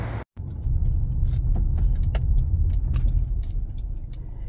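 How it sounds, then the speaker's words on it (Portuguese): Steady rumble of busy street traffic in Boston, cars passing close by with engine drone and a few sharper clinks and clatters on top, no talking. "O trânsito aqui em Boston é intenso."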